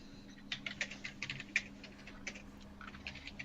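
Someone types on a computer keyboard in quick, irregular bursts of light clicks, close and fairly quiet, with pauses between runs and no talk.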